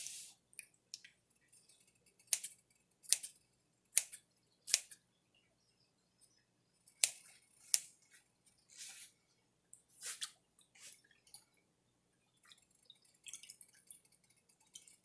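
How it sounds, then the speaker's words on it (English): Kitchen scissors snip cilantro in short, crisp strokes. The cuts come in irregular clusters of bright clicks separated by quiet pauses, close to the microphone and without talk. "And then we will get our cilantro cut up in there."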